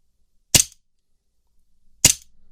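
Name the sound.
Umarex Colt M45 CQBP air pistol firing with blowback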